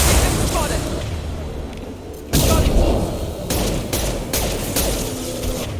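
Dense rapid SMG gunfire from Mass Effect 2 gameplay, a loud continuous rattling barrage with explosive bursts, heard alongside game effects.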